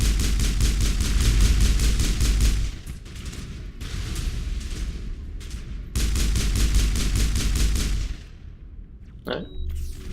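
Rapid automatic gunfire from the Mass Effect video game, loud dense bursts with brief pauses between volleys, followed by a quieter stretch and a short electronic effect near the end.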